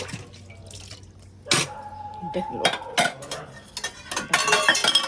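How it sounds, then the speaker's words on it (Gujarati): Pots and steel utensils being scrubbed and rinsed with cold water, with clanks and clatters of dishes knocking together over trickling water, plus a few brief human sounds in between. "વાસણ કાઢીને ઘસવા બેસી ગયો."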